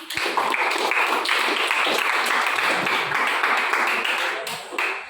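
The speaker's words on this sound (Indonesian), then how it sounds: "Tepuk tangan untuk Danang." Steady applause from a school audience for a student speaker, dense and even for about five seconds before tapering off near the end.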